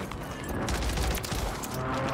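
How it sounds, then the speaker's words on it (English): Dense, continuous volleys of gunfire from Call of Duty Warzone on Rebirth Island crackle loudly and steadily for a couple of seconds, with no talking over them. "those are all shots"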